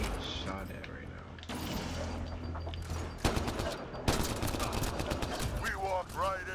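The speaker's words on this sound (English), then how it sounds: "I'm getting fucking shot at right now." Rapid bursts of gunfire crackle through a firefight in the sci-fi shooter Mass Effect Andromeda, steady and dense for several seconds beneath voices talking over the action.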